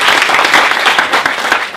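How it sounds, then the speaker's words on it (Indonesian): Applause at a business school leadership event, a dense wash of clapping hands from an audience, steady and loud throughout the short burst. "Bisa kita berikan tepuk tangan luar biasa hari ini"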